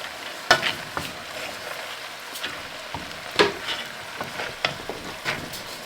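Beans being stirred into frying bacon in a pot on a wood cookstove, a soft steady sizzle broken by several sharp scraping clicks and clanks of the spoon against the pot at irregular intervals.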